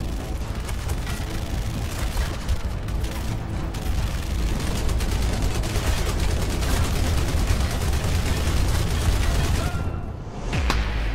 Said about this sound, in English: there's like five fucking people shooting at me.